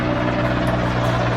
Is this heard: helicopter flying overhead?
yes